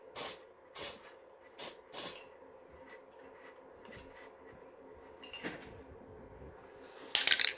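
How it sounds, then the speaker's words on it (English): Board lacquer is sprayed onto a circuit board from a Super Bengal, with four short, sharp hissing bursts close by, then quieter handling clatter and a final spray burst at the end. "then spray with the board lacquer"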